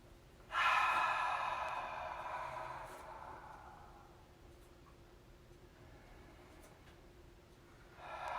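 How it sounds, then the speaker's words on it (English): A deep cleansing breath in a yoga class, just after mountain pose: one long, fairly loud exhale that opens sharply and fades over several seconds into quiet room tone. A second breath begins softly near the end. "Cleansing breath."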